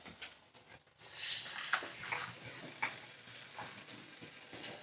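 Chopped tomato and spices frying in a hot pan with oil, a steady close sizzle with soft stirring scrapes and small pops, loud and alone.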